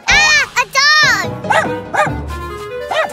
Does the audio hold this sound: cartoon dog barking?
yes